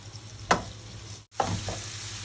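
Onion fries in a pan for a tuna dish, a steady close sizzle with two sharper bursts as the pieces are stirred, no voices.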